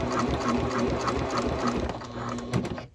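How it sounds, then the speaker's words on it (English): A sewing machine runs steadily while restitching the first seam line on a pocket tote bag, a close, continuous rapid mechanical whir with a rhythmic needle patter and a slight slowdown near the end. "I'm sewing that again."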